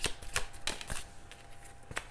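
Heart-shaped tarot cards are shuffled close up in several quick, crisp riffling bursts separated by short pauses, with no talk over them.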